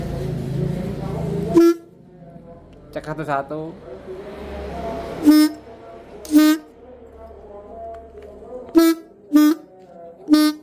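Short buzzing, horn-like toots from air blown through RX King motorcycle reed valve membranes, several separate bursts, close and loud, with someone talking in between.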